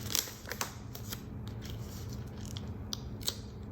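Scissors trim the edge of paper in a journal with a few quick, crisp snips and light rustling, close and quiet.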